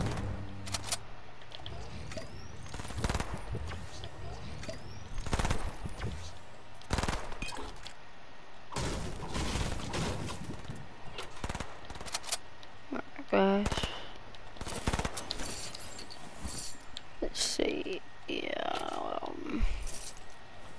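Burst-fire gun in a video game cracking out in repeated quick volleys throughout, mixed with other game effects and a person talking over it.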